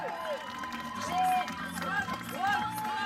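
Rodeo spectators cheer and clap in a crowd, with shouts and whistles rising in bursts over a steady roar, and a loud announcer-like voice running throughout.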